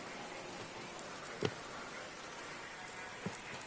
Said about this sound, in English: It is still very much raining.